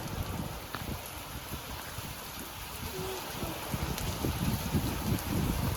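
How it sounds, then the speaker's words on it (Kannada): Rain falls outside a doorway onto plants and ground, a steady patter with scattered nearer drips over a soft continuous wash, no speech. "ಎಷ್ಟು ಮಳೆ ಬರ್ತಾ ಇದೆ."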